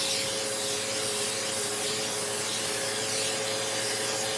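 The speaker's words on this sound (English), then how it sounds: "Let's give it a little go with the old vacuum." A vacuum cleaner runs steadily over a dirty air filter from a Briggs & Stratton 190cc 675 series lawn mower, producing a loud, continuous whooshing roar with a steady motor whine and faint rubbing.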